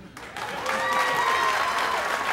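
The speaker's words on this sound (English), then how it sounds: "My round of applause." Applause rises from a comedy show crowd, starting thinly and swelling into full, steady clapping within a second, with a few cheers or whistles on top.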